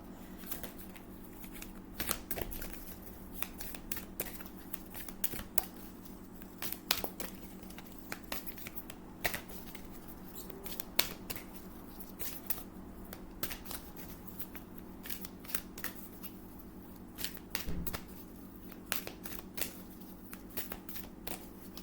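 Oracle cards being shuffled by hand, with quiet repeated riffling and flicking of card stock in irregular bursts against a faint steady background hum.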